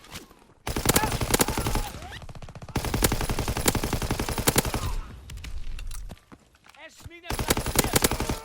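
Rapid automatic gunfire from a Call of Duty WW2 team deathmatch match, loud rattling bursts separated by short pauses and a few single shots, with quieter game ambience in the gaps.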